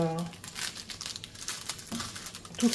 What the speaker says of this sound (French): Je vais replacer le film plastique encore une fois.